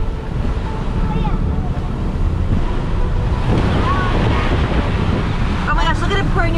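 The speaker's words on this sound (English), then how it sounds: "Look at that current coming in." Ocean water surges and rushes steadily across a flooded road several inches deep, a loud continuous wash of waves with wind buffeting the microphone and faint voices underneath.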